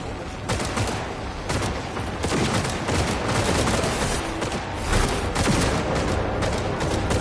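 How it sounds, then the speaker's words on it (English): Sustained, dense gunfire from a Cyberpunk 2077 firefight in the Phantom Liberty expansion, with overlapping bursts and rapid automatic volleys, loud and close, running continuously with no voices. "Opening fire"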